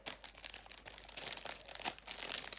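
A plastic bag crinkles and rustles up close as a paint-by-numbers kit is slid back inside it, a quiet, busy run of crackles with no talking.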